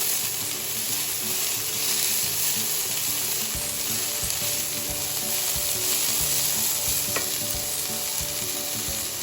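Note greens (amaranth leaves) fry and get stirred in a pan as part of a Bengali stir-fry, giving a steady, close sizzle with soft, rhythmic scraping and turning sounds throughout and no voices.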